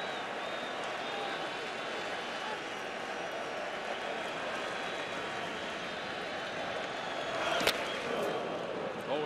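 Stadium crowd at a 2013 ALDS playoff game between the Red Sox and Rays roars steadily after a ground rule double, a broad, sustained wall of cheering with a brief louder swell near the end.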